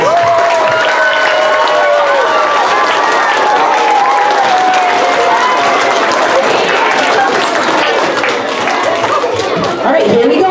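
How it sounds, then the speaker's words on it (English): Audience at a school band concert applauding steadily and loudly, with dense clapping mixed with crowd chatter and a few voices throughout. "Let's give a big round of applause."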